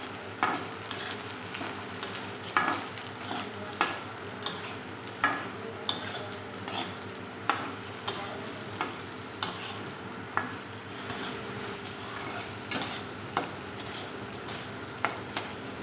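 Chopped potatoes go into a pan of frying carrots, onion and chili and are stirred, with a spoon scraping in a steady rhythm about once a second over a continuous close sizzle, with no voices.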